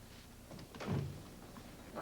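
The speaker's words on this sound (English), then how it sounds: "Claude, the garage door." A garage door moves with a single soft, muffled thump and a brief rumble near the middle, set against a quiet indoor room tone in a 1981 film scene.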